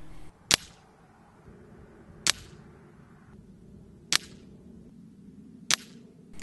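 Air Arms S510 TC hunting air rifle firing Daystate Rangemaster LI roundhead pellets at 35 yards: four sharp, loud cracks spaced about two seconds apart over a steady low background rumble.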